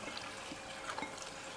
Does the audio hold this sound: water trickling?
yes